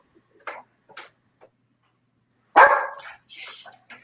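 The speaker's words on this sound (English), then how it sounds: "I gotta mute my Dukes when Romeo starts barking" A dog barks in short, sharp yelps, a few light ones spaced apart, then a louder, closer bark followed by another burst, with quiet gaps between.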